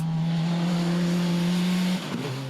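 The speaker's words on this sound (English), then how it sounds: "You can just hear it leaking boost." A rally car engine with a blown-off turbo hose leaking boost drones at a steady pitch with a hissing, whooshing edge, then the note drops abruptly as the revs fall.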